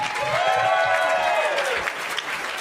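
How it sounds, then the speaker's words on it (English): Steady audience applause at a stand-up comedy competition final, dense continuous clapping from a crowd welcoming a comic to the stage. "that round of applause going for your next comic, Dan Curtis Thompson."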